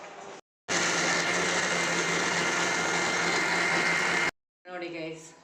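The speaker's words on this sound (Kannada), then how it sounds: "ನಾನು ಹಂಗಾಗಿ ಗ್ರೈಂಡ್ ಮಾಡಿದ್ದೀನಿ ನೋಡಿ" A mixer grinder whirs loudly and steadily for about four seconds as chutney is ground at home, cutting off abruptly, with someone speaking briefly before and after.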